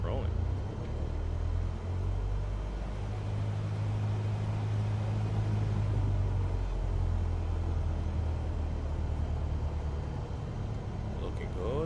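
Aircraft in a flight simulator rolling forward on throttle while taxiing, a steady low engine rumble and hum holding even throughout with no break.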